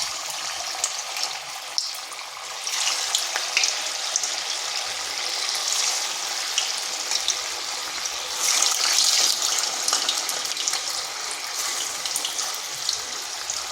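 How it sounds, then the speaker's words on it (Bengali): Sabudana and raw potato snacks sizzling in hot oil in a wok, a steady broadband hiss and crackle that stays even and fairly quiet throughout, with no talking. "এখানে কড়াইতে তেল দিয়েছি গরম হয়ে গেছে এরপর এগুলো দিয়ে দিচ্ছি"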